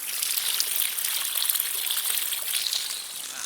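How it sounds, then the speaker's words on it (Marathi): Water flows and trickles at the very hot spring tank in Dapoli, giving an even, hissing patter that stays fairly quiet and unbroken throughout, with no voices. "तर हे गरम पाण्याचे कुंड आहे प्रचंड गरम पाणी आहे"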